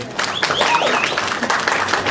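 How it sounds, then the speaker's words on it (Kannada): A show audience applauds for the Sutradhari team at a celebrity event: dense, steady clapping from a crowd throughout, with a voice speaking over it. "ಜೋರಾ ಚಪ್ಪಾಳೆ ಬರಲಿ ಸೂತ್ರಧಾರ ಟೀಮ್ಗೆ"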